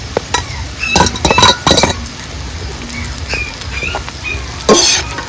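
Bitter gourd pieces and onions get stirred in a frying pan, with a steady sizzle and repeated clinks and scrapes of the spoon against the pan, loud and close.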